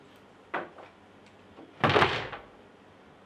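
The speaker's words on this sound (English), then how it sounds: "You just slam door for me?" A door knocks once, then a couple of seconds later slams shut with a loud, sharp bang and rattling decay, indoors, with no talking over it.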